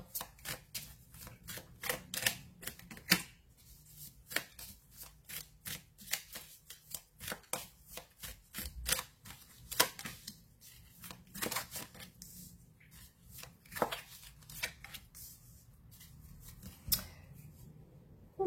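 Tarot cards shuffled for a reading, repeated soft riffling and slapping bursts of card stock at an uneven rhythm, quiet and close with no talk.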